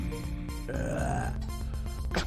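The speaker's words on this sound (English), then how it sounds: "It sounded more like you burped" A single long, loud burp, drawn out and croaky, heard close up with no talking.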